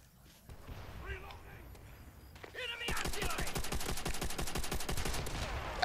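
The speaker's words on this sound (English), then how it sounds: "This gun shoots awfully slow" A gun in Call of Duty: World at War fires a steady, evenly spaced string of loud shots over the second half, after a quieter stretch with a voice talking over game sound.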